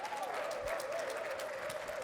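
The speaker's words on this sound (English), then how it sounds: "How about a round of applause for our band?" Applause from a studio audience for a band, a steady wash of clapping that lasts the whole moment, with a faint tonal hum running underneath.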